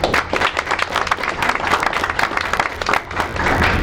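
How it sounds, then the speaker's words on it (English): Applause from the audience at a Colorado Aeronautical Board meeting, a steady round of clapping from a small crowd filling the room for about four seconds before tapering off. "Let's give him a round of applause"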